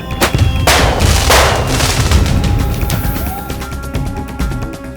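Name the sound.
fireworks exploding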